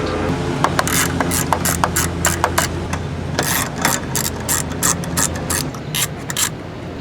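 A ratchet wrench clicks in quick bursts while removing bolts during a starter replacement on a 2002 Mitsubishi Lancer, close and crisp over a steady low hum.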